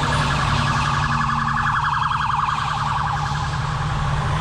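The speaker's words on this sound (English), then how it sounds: "there's the ambulance coming up here." An ambulance siren wails on the road during a drive from Excelsior Springs, Missouri to Kennesaw, Georgia, its rising and falling tone loud and steady over the low rumble of the vehicle's engine.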